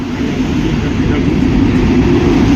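A Vande Bharat train entering Berhampur station, a loud, steady low rumble and rolling roar heard up close, continuous for the whole stretch.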